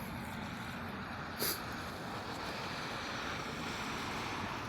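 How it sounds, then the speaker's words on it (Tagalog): Seaside waves in Jeddah, Saudi Arabia, wash in a steady broadband roar mixed with wind buffeting the microphone, with one brief sharp knock partway through. "Mao ni ang daplin sa dagat."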